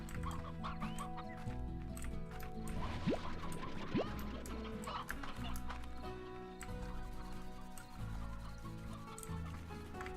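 Chickens in the farming video game Slime Rancher cluck repeatedly in a busy, overlapping chorus, with sharp clicking and knocking sounds scattered throughout at a moderate, fairly quiet level.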